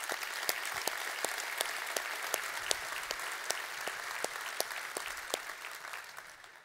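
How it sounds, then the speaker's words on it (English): A civic audience at a State of the City address applauds to welcome a newly named city manager: steady, dense clapping from many hands, sustained and even throughout, with no talking over it. "let's give him a welcoming round of applause."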